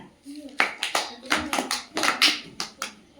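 Children clap their hands in a quick series of about a dozen sharp claps at close range, in a loose, uneven rhythm, with a few soft childish voices among them.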